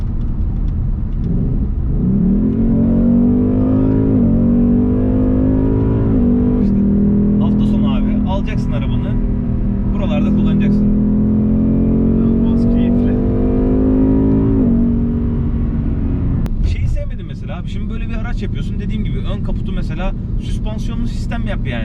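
A Ford Mustang 5.0 GT in sport mode pulls from inside the cabin, its engine droning and rising steadily through the gears before easing off, under someone talking almost throughout.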